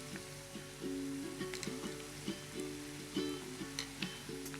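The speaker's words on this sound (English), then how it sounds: "Now I'm gently dropping the samosas one by one" Paneer samosas fry in hot oil in a pan, giving a steady, fairly quiet hiss and sizzle beneath a louder melodic tune that plays throughout.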